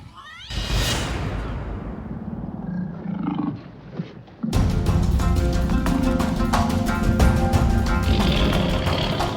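A tiger roars loudly and close, a long rising growl with cat-like snarls, followed by a dense, continuous roaring rumble that persists without speech.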